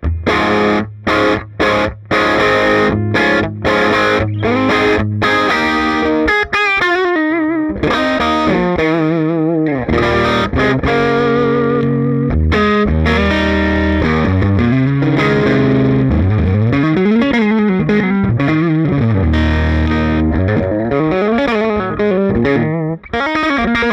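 An electric guitar played through an Eddie Wang Polaris boutique amplifier delivers a loud, Marshall-style overdriven tone, starting with choppy staccato chords and moving into sustained, ringing chords and melodic lead lines, with no talking.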